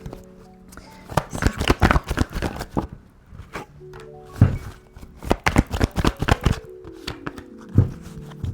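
Packs of tarot cards handled and shuffled at close range, with a dense run of sharp flicks, slaps and soft thuds in irregular bursts separated by brief quieter gaps.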